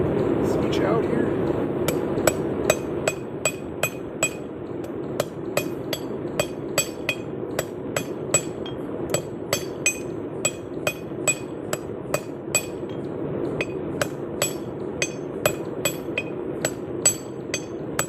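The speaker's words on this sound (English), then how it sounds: "those new hammers just hit so nice" A forging hammer rings sharply on hot metal at an outdoor forge, steady repeated strikes roughly every half second for the whole stretch, each blow a bright clanging hit over a constant roaring background.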